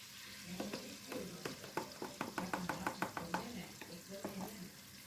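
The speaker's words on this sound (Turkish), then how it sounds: "Bu şekilde karıştırıyorum." Cream being stirred into melted butter in a pan, a soft rhythmic series of scraping taps from the spoon over a low sizzle, close and fairly quiet, with no one speaking.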